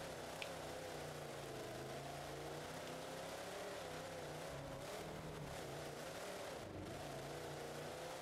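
A monster truck engine running on methanol fuel in BeamNG.Drive, a steady droning, slightly wavering engine note that holds a constant level throughout with no talk.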